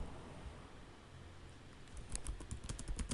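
Typing C# code on a computer keyboard, with soft key clicks that start faint under low hum and grow into a brisker, louder run of taps near the end.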